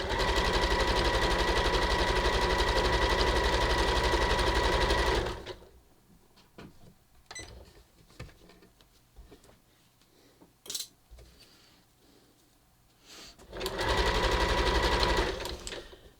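A sewing machine stitches a shelf bra with custom cups for a bathing suit, running in two fast, steady bursts with a quiet pause between them filled with small handling clicks.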